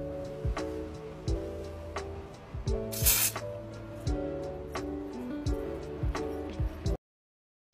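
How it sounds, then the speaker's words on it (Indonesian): A sunscreen spray can releases one short, sharp pressurized burst in the middle, set among soft tapping and handling sounds from close by, and the sound stops abruptly near the end. "kita semprot-semprot aja di muka"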